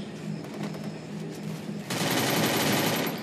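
Rapid automatic gunfire from the Garena Free Fire mobile game, a dense burst of shots that grows louder and continuous in the second half, with no speech.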